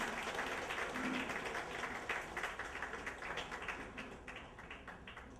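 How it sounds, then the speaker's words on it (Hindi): Steady applause from a crowd at a government ceremony, a dense, even patter of clapping filling the whole stretch at moderate loudness without letting up. "और एक बार जोरदार तालियां आप सभी की।"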